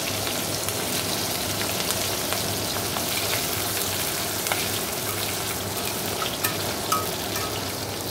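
Crushed garlic, chili and nigella seeds fry in oil in a wok, a steady close crackling sizzle with scattered pops, continuous and alone without voices.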